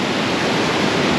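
Strong white-water rapids on the Niagara River at its narrowest point, a dense, steady roar of churning water, loud and close, with no voices.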